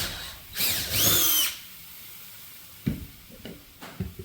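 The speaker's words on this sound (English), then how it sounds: "Take your 7/8" drill bit, drill through that hole." A power drill with a 7/8-inch bit whirs loudly for about a second while drilling through a floorboard, then a few scattered knocks and thumps follow in the quiet.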